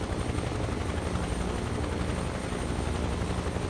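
A Huey helicopter flies low over jungle in Microsoft Flight Simulator, its rotor producing a steady, dense, loud chopping roar that continues evenly throughout with no talk.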